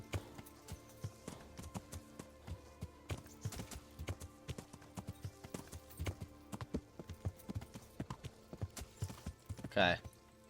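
Horse hooves clip-clop at a steady walking rhythm in the Kingdom Come Deliverance video game, the horse tiring, regular quiet hoofbeats with a brief louder sound near the end.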